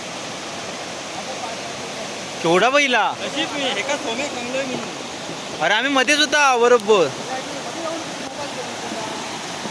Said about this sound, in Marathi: इकडे अचानक पूर आला आहे खतरनाक, कारण पाऊस लागला तेवढा होता